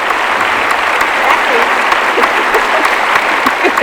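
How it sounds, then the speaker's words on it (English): Steady studio audience applause, a loud, even wash of many hands clapping that runs unbroken from start to finish, with a faint murmur of voices mixed in. "Round of applause for that. We get the studio hand claps for that."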